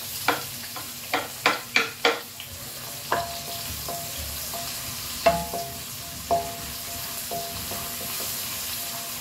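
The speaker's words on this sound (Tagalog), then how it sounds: "Mainit na po yung ating mantika. Ilagay na po natin yung ating prinsesa, sibuyas." Onion dropped into hot cooking oil for pineapple-juice adobo: a faint steady sizzle under a series of sharp clacks and scrapes from stirring, loudest early then spacing out.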